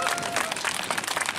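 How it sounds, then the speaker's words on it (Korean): Applause and clapping from a crowd at an anti-nuclear rally in Gyeongju marking the Fukushima anniversary, a steady dense wash of hands throughout with faint voices mixed in. "다시 한번 힘내시도록 큰 응원의 박수를 부탁드리겠습니다"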